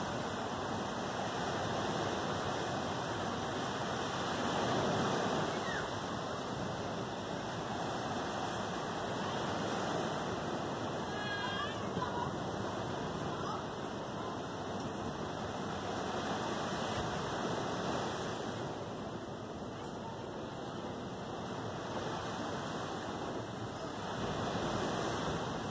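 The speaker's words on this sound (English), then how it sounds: "look at them beautiful waves." Ocean surf breaks continuously on a beach, producing a steady, loud wash of crashing and rushing water that swells and recedes for the whole stretch with no voices.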